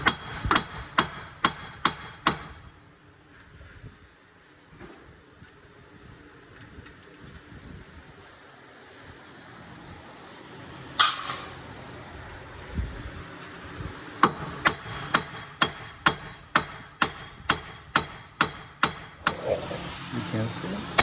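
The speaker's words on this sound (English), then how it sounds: "And with my hammer," Sharp hammer blows ring out on the front wheel hub of a Dodge Grand Caravan 3.6 during a wheel bearing replacement: a quick rapid series at first, then a long quiet stretch, then another steady run of loud, evenly spaced strikes.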